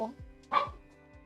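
A puppy gives a couple of short, sharp yips and barks nearby, quiet and indoors, one louder bark standing out between softer sounds.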